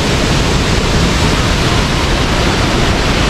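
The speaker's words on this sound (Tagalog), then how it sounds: "Talay Falls, ganda oh." Talay Falls waterfall roars as a dense, steady rush of falling water, loud and close with a broad hiss and no pauses throughout.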